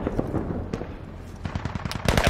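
Gunfire in the military shooter game Squad: dense bursts of automatic and single shots crackle through the scene, growing louder and closer near the end.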